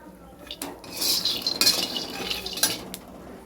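Peanuts dry roasting in a pan while being stirred, heard as close, dry scraping and rattling with a few metallic clinks of the utensil against the pan.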